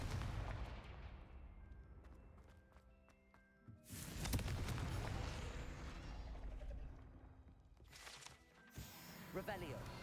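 In Hogwarts Legacy, a Confringo fire-blast spell goes off as a loud booming burst, followed a few seconds later by another sharp blast amid continuous rumbling game sounds.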